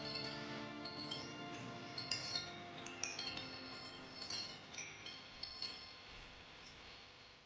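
Grated carrots, chopped walnuts and coconut chips being stirred into carrot cake batter, with a utensil clinking and scraping against a bowl in a steady run of light, close taps and knocks.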